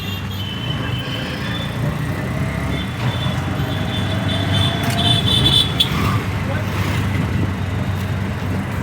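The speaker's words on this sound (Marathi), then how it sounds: "आता रिक्षामध्ये बसलोय, आता जाणार स्टेशनवरती." Riding in an auto rickshaw toward a railway station: a continuous engine drone and road traffic rumble, with indistinct voices mixed into the steady noise.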